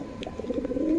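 Pigeons, including foreign breeds, at the Beldanga livestock market coo in a steady low, throaty murmur that runs close and continuous for about a second, with no talking.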